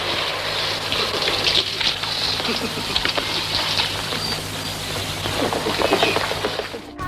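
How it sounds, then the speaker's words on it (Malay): Rain falling steadily, a dense continuous hiss and patter with a constant low hum underneath, loud and unbroken throughout, with no voices. "Hujan dah turun."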